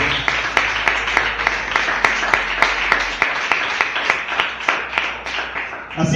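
A church congregation claps steadily together in a hall, sharp regular beats at about two per second, loud and close, continuing for several seconds with a low hum under it.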